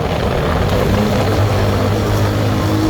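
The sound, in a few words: Mojo 200 motorcycle riding at high speed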